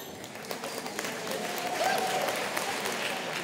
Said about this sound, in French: Donc, vous pouvez vous applaudir aussi, vous-même.